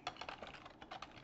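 Keys clatter on a computer keyboard during office data entry, a quick irregular run of close, crisp clicks with no voices.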